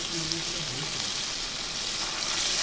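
Spices with turmeric and sugar fry in a pan for a banana flower curry, giving a steady, close, hissing sizzle that runs without a break.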